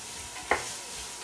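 Two cloves of minced garlic sizzling in a pan on an induction burner, a soft steady frying hiss with one brief scraping stir near the middle, close and quiet, without talk.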